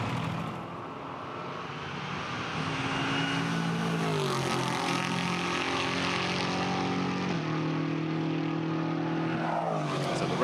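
GT4 race cars lap the Monza circuit in a European Series race, engines roaring loudly and steadily, with rising and falling pitch as they pass and shift gears close by.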